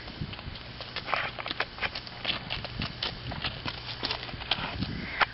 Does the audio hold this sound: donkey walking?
yes